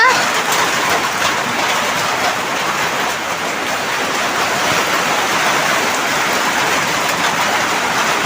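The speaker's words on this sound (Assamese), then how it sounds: "সেয়া বৰষুণ দি আছে" Rain falls steadily as a dense, even hiss of close, loud drops that continues without pause from start to finish.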